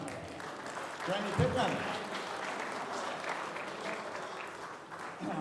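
A crowd at a boxing hall of fame ceremony keeps applauding steadily while someone speaks over the clapping through an amplified microphone.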